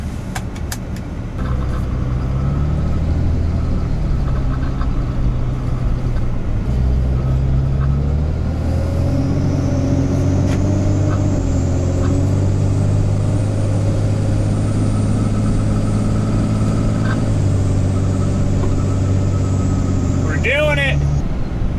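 A Ford truck swapped with a Cummins diesel engine drives on the street, a loud steady low engine drone with rising and shifting tones as it accelerates through gears, filling the cab with constant road rumble and a brief rattle at the end.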